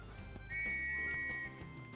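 A chocobo whistle blown in Final Fantasy XV gives one steady high-pitched tone lasting about a second, clear and close over soft game music.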